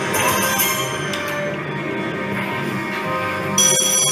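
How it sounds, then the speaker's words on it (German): Slot machine bell ringing after the first spin of a casino game, a continuous bright electronic ringing with layered chimes, loud and steady throughout, with no voices. "Es klingelt bei der ersten Drehung."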